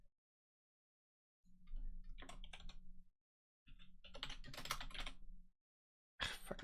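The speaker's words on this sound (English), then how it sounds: "Fucking keyboard." Rapid typing on a computer keyboard in three bursts of dense clicking keystrokes separated by short silences, close and fairly crisp, with no talking.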